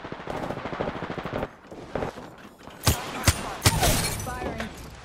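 Rapid bursts of automatic gunfire crackle through an Apex Legends firefight, with a dense stream of shots followed by several loud, sharp single reports near the end, while a voice calls out over the shooting.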